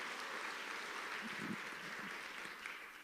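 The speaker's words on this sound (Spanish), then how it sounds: "Dale un aplauso al Rey del Cielo" A church congregation applauds during a sermon, a steady, moderately soft wash of clapping lasting a few seconds with a faint low murmur of voices underneath.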